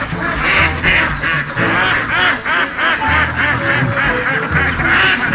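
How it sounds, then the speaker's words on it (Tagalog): A large flock of ducks quacking loudly and continuously after being fed, many overlapping calls close by. "Ayan tayo, pinakain na yung itik tayo."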